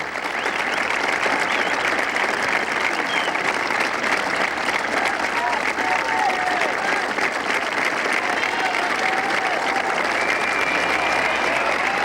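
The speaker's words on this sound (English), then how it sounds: "listen to the applause for Fred Couple" Golf gallery at the 1984 Players Championship applauds Fred Couples, a thick, sustained wash of clapping from a large crowd that holds steady throughout, with faint voices and cheers mixed in.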